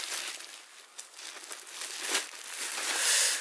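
Crinkly packaging being handled and opened around a spare laptop keyboard for a Lenovo G500, with soft irregular crumpling and rustling, close and fairly quiet, no voices.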